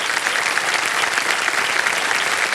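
Studio audience on a televised quiz show breaks into loud, steady applause, dense clapping filling the room continuously without pause.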